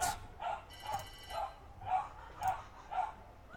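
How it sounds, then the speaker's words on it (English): Dogs in a neighborhood bark repeatedly at a steady pace, about two barks a second, sounding somewhat distant and moderately loud. "dogs are super loud today"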